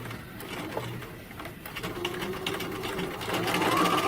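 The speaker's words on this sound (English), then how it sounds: "Lower your presser foot, and then we'll start with a back stitch." Sewing machine stitching organza fabric, beginning with a back stitch, makes a continuous close mechanical whir that grows slightly louder at the end, with pigeons cooing faintly in the background.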